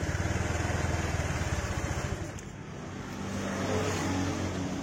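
Honda Vario 125 FI scooter engine with a sputtering fault, revved but failing to climb in RPM: a steady pulsing drone that dips briefly, then rises again to a rough, sustained note, close up with no voices.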